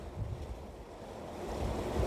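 Water rushes through a gharat, a traditional water-powered grain mill at the start of the Har ki Doon trek. It is a steady, loud, broad roar that builds slightly toward the end, with no voices.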